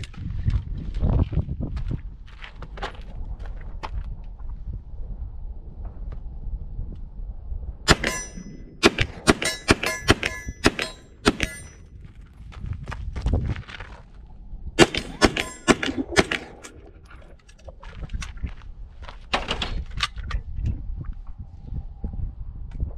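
An H&K SP5 fires at a steel target about 30 yards downrange, with clusters of sharp shots and ringing metallic clangs in two quick bursts between quieter handling noises.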